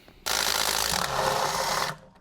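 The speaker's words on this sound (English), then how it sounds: "And then we're gonna remove the bolts." A power tool whirs steadily for just under two seconds, loud and close, while transmission bolts are removed from a 1975 Triumph TR6 during a transmission teardown.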